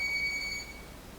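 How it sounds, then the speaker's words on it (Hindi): A kitchen timer sounding its finish alarm indoors in a Korean home: a thin, high electronic tone with a few short repeated beeps over faint room noise, quiet and brief. "टाइमर ख़त्म हो गया"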